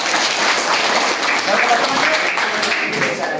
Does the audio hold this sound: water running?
no